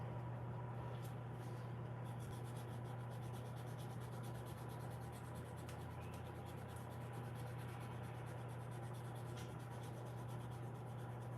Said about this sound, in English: So I'm going to sand up a couple grits before I start.